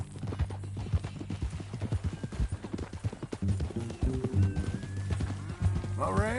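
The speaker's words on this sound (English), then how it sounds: "That a new horse?" Horse hooves clip-clopping at a steady walk in Red Dead Redemption 2, rhythmic and close, with a whinny, game dialogue and background music over the hoofbeats.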